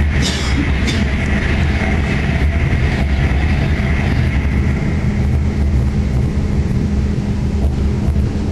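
A train pulling into a station as it terminates there, a steady loud low rumble of wheels and motor with hissing and faint high squeal at the start, continuous and close throughout.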